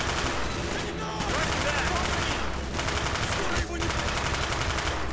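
An MP5 submachine gun fires in the video game Call of Duty Black Ops: loud, rapid automatic bursts almost without pause, broken by two brief gaps, with a voice faintly underneath.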